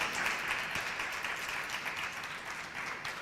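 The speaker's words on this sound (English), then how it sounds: "give Stephanie a round of applause, please" An audience at an evening poetry and song performance applauds, a dense wash of clapping that holds steady throughout the short stretch, moderately close and with no voices over it.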